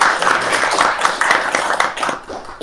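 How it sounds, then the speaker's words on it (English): An audience at an ISKCON Dublin gathering for Srila Prabhupada's disappearance day claps in a dense, lively burst of applause that carries on throughout before thinning slightly near the end. "can clap for Prabhupada, no problem"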